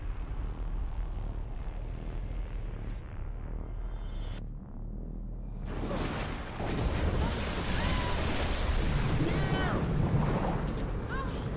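Water rushing and churning after a plunge into the sea in the Tomb Raider (2018) game, a steady broadband wash that surges louder and fuller partway through, with faint bubbling and swells, close and continuous.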